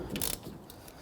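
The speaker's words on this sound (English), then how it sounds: "so you're going to use the ratchet going upward" A ratchet turns on the rear brake caliper bracket bolt of a 2005-2021 Nissan Frontier, giving a brief burst of close mechanical clicking and metal rattle in a quiet garage.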